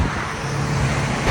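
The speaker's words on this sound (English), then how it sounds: "There's a tow truck coming." A tow truck passes on a road near a highly modified Subaru STI, a loud, steady broadband rumble of engine and tyre noise filling the whole moment without a clear rise or fade.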